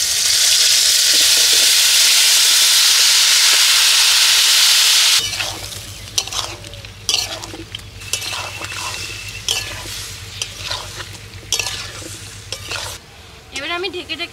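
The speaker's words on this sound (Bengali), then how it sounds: "এবার মাখিয়ে রাখা ইঁচড়টা দিয়ে দিচ্ছি।" Marinated raw jackfruit drops into hot mustard oil tempered with whole garam masala, cumin and bay leaf. A steady loud sizzle gives way to crackling frying with scraping stirs and clinks of a spoon against the pan. The kitchen is in a village.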